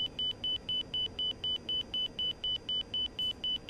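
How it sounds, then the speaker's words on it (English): The inner marker beacon tone in the DCS A-10C Warthog flight simulator sounds as a steady string of rapid, evenly spaced high beeps, about four per second. It plays over a constant low cockpit engine rumble. "Inner marker."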